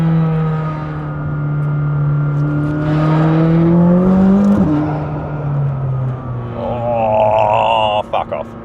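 McLaren 600LT sports car engine while driving, a steady loud drone heard from inside the cabin with a slowly rising and falling pitch, then a brief shift-like dip and a lighter whine near the end.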